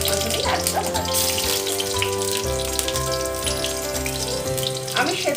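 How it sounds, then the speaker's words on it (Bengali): Parboiled potatoes fry in a pan with a steady, close sizzle and crackle that runs unbroken through the clip, with a faint tonal hum underneath. "প্রথমেই আলুটা ভাজছি।"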